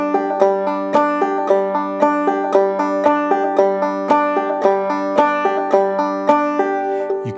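Clawhammer banjo in standard G tuning playing alternate-string pull-offs: bright, twangy plucked notes in a steady, bouncy repeating rhythm, close and clear, solo with no voice.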